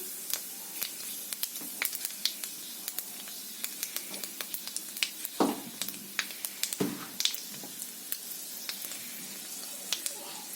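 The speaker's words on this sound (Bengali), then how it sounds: "তো আমি এখন তেজপাতা এবং ফোড়ন দিয়ে দিলাম।" Bay leaves and whole spices dropped into hot oil in a pan, a steady faint sizzle and crackle with scattered sharp pops and two louder spatters, no talking.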